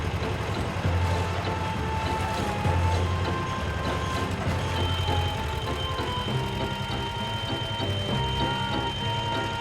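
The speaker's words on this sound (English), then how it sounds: "That beeping sound you hear is from the measuring stick." A concrete depth measuring stick at a 1994 building site beeps steadily, a sustained tone repeating through the clip, over continuous low rumble of construction machinery.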